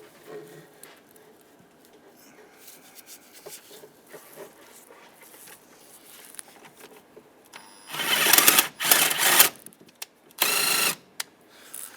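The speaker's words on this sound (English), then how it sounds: "we can tighten that bolt down" A bolt is tightened on a fuel injector of a 2007–2015 Mazda CX-9. Quiet clicks and handling noises give way to several loud bursts of a power tool or ratchet running near the end. No one speaks.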